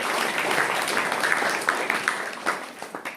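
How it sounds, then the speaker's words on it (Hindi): A group breaks into clapping for a participant who volunteered in a spiritual gathering, a sustained wash of applause that thins out toward the end, with faint voices underneath. "ताली बजाओ इनकी"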